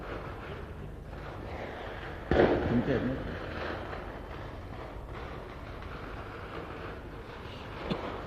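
Firecrackers go off at a 1998 political rally, with a sudden crackling burst a couple of seconds in and a lone sharp pop near the end, over crowd noise and nearby talk.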